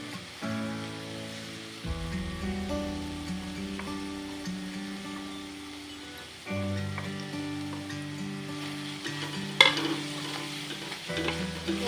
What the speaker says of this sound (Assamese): এতিয়া আকৌ লৰাই থাকিম।